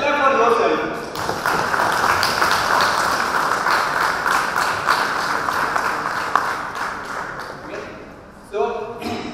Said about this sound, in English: let's clap for yourself.